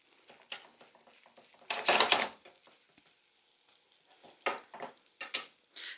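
Smoked salmon being moved around and broken up in a pan, with scraping, clinking utensil strokes in short bursts, one louder cluster of scrapes near the start and a few more toward the end, no voices.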